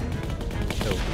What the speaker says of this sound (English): Who the fuck got an AK?